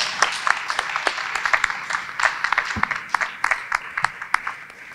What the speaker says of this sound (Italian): E facciamo un applauso, che bravissimo.